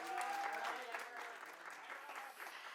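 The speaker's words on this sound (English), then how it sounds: "One more round of applause." Studio audience at a Gillette campaign premiere gives steady, sustained applause, near and full, with a voice speaking faintly over the clapping.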